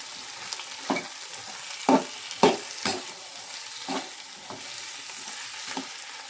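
Potato stuffing for bread dahi vada is mixed in a bowl, giving repeated soft scraping strokes at uneven intervals over a steady background hiss, heard up close with no voices.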